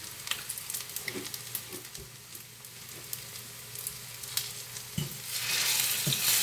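Okra fritters sizzle steadily in a hot pan, a close, continuous frying crackle with occasional soft stirring taps. The sizzle swells louder near the end.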